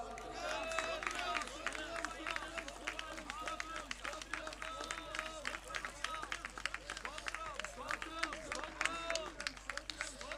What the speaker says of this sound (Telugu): చప్పట్లు కొడుతున్నారు కానీ స్తోత్రాలు ఆగిపోయినాయి